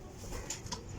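A Sialkoti pigeon coos softly, a brief low murmuring call set against faint background noise, with a couple of short higher sounds nearby.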